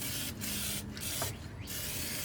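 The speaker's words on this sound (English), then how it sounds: "I decided to just spray them down" An aerosol spray paint can hisses in short bursts over metal straps, several brief sprays separated by small pauses, quiet and close.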